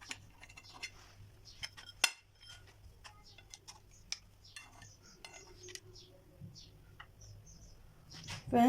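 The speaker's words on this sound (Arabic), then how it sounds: "دابا غادي نقطع معكم واحد الطريف باش تشوفوها كيف كتجي من الداخل" A knife cuts into a slice of light, cake-like oven-baked harcha, making sparse, soft ticking and clinking taps against a quiet background, with a louder knock near the start and a rising noise at the very end.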